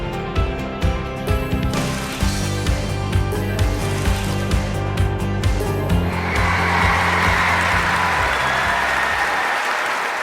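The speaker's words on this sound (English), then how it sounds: "And the crowd stand on their feet to applaud" Stadium crowd applause in the London 2012 Olympic video game swells after a medal-winning performance. Tonal background music comes first, then a broad, sustained wash of clapping fills the second half, loud and close.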